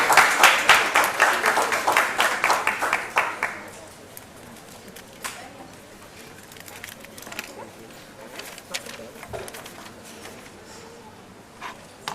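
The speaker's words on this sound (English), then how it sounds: "can we give a big round of applause" An orientation audience at a business school applauds to welcome a speaker, loud rapid clapping for about four seconds that then fades to scattered claps and quiet room murmur.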